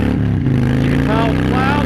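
A 2016 Harley-Davidson Fat Bob with a Big Radius exhaust and Thunder Monster baffles idles with a loud, deep, steady rumble while someone talks over it.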